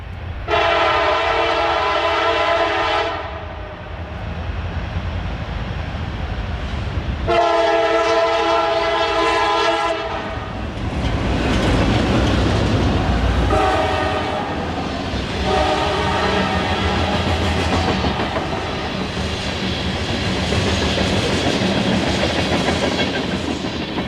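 A freight train horn blares in long, loud blasts separated by short gaps near the south portal of the Cowan Tunnel, followed by rumbling wheels and clattering rail cars passing close by.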